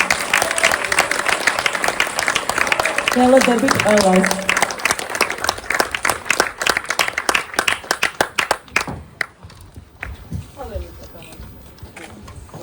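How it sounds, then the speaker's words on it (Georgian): Audience applause in a hall as performers are called to the stage; loud, close clapping over the first several seconds, a voice speaking briefly in the middle, then thinning into scattered claps that fade out. "აპლოდისმენტებით."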